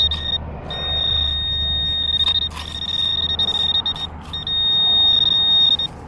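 DeepTech Onyx metal detector giving repeated high-pitched signal beeps over a target on a noisy foreshore, the steady tones broken by short gaps and set against loud background rumble.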